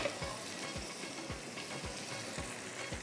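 Ginger and butter sizzle and fry in a pan for carrot and fenugreek sabzi, a steady crackling hiss with soft repeated stirring scrapes, close and continuous, no talking.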